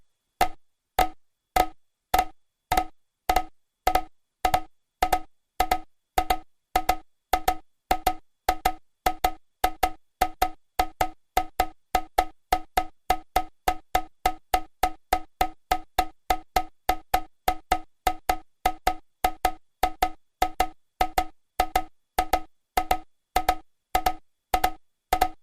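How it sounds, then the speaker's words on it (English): Two click tracks at 100 and 102 BPM play together, sharp ticks that start as doubled pairs and drift in and out of alignment, producing a shifting, uneven rhythm, steady in level and clean with no voices. "here is the superposition of two click sequences."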